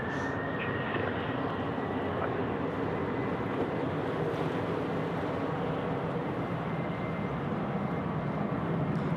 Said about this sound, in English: we've got Qantas 413 off to Melbourne now, is rolling runway 34 right